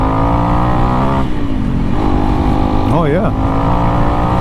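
A Honda CRF dirt bike engine, running a DNA air filter and Dunlop D605 rear tire, drones loud and close, then dips and climbs in revs after a gear change, with a rider's brief voice over it.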